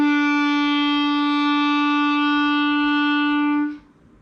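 A clarinet holds a single steady E for about three and a half seconds, rich and reedy with a stable pitch, before cutting off cleanly, played alone with no talking.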